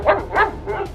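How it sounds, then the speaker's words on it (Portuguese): A wolf growls in a tense audiobook scene, two or three rough, throaty bursts standing alone and close, each swelling and fading within a second. "O lobo rosnou."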